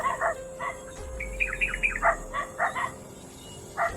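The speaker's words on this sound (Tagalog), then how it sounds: "Kaya kung naririnig namin kasi yung aso." A dog barks several times at a distance, short sharp yelps in an irregular pattern over a quiet outdoor background.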